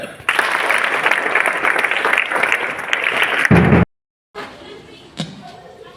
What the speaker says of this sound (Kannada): ನೋಡಿ ಚಪ್ಪಾಳೆ